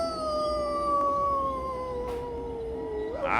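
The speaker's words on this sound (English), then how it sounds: "your ears perk up and you hear this howling of wolves" Wolves howl at night in a long, sustained tone, a single drawn-out wail that slowly falls in pitch with faint clicks behind it and a brief rustle at the end.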